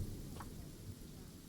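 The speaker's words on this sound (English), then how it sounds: "I wish the rain would stop." Rain with a low thunder rumble in the zoo-management video game Planet Zoo, a soft steady wash with a deep rolling undertone and no talking.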